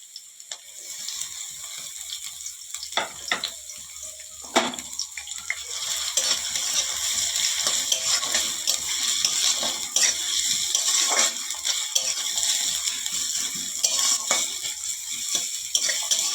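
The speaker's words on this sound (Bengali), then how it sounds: "এরপর দেবো পেঁয়াজ কুচি পেঁয়াজ কুচিটা হালকা ভেজে নেবো" Chopped onion sizzles steadily in mustard oil with a whole chili in a pan, a continuous bright hiss that persists throughout with a few faint clinks of a utensil, with no voices.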